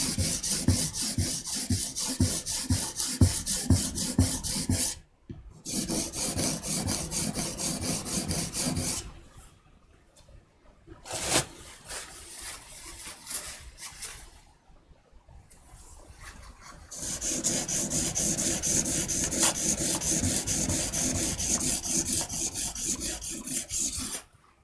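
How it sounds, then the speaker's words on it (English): Steel blade rubbed against a polishing stone during sharpening, a steady rasping scrape in repeated strokes, loud and close, broken by a few short pauses and ending in a long stretch of continuous grinding. "The next step, the polishing, this is the one that just actually does the sharpening."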